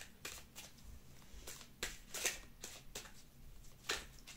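Good Karma oracle cards shuffled by hand in a series of crisp riffling bursts with short pauses between them, close and fairly soft, with no talking.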